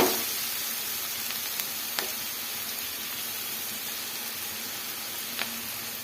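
Food fries steadily in a pan while bread toast is made, giving a continuous even sizzle with a few faint clicks, close and alone with no voices.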